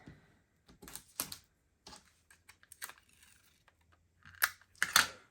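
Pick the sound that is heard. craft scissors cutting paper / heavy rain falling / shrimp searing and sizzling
craft scissors cutting paper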